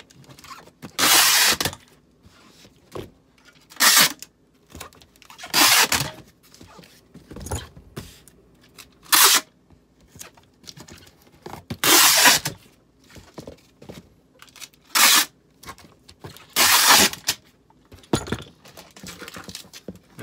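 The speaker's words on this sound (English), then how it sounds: "So I'm just gonna tape them down real fast." A 3-inch tape gun taping down a package of art prints: sharp, loud zipping rips of tape come in short separate bursts with quiet pauses between, close by and with no talk.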